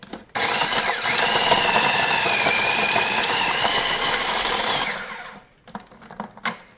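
A food processor whirs loudly and steadily for about five seconds while chopping parsley, basil, garlic cloves and bread, then cuts out, followed by a few scattered knocks and clatters.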